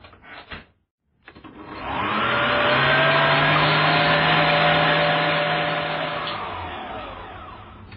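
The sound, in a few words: electric whisk whipping egg whites for meringue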